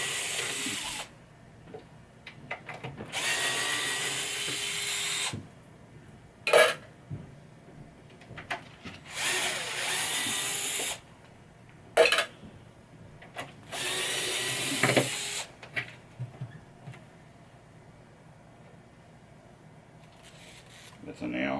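A power drill backs screws out of a 1985 Williams Comet pinball cabinet head. Close, loud whirring bursts run a few seconds each, separated by quiet gaps with brief clicks and clunks of handling.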